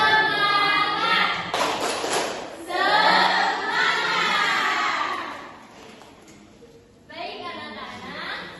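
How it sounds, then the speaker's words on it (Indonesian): A classroom full of children performs a rhythmic spirit clap chant, voices chanting together with bursts of clapping, loud and close, pausing briefly before resuming. "Tepuk semangat"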